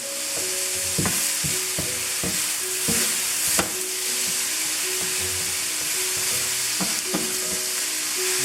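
Sofrito sizzles steadily in olive or vegetable oil in a pan, with a continuous frying hiss broken by repeated sharp scrapes and knocks of a spoon stirring it, close and fairly loud throughout.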